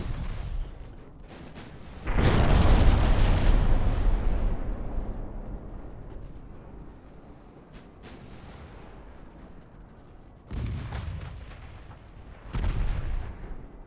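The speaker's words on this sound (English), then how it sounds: "How about you fire AP first?" A battleship in a naval strategy game fires armor-piercing shells: a heavy, booming salvo with a long rolling decay, followed later by two shorter distant blasts, with no voices.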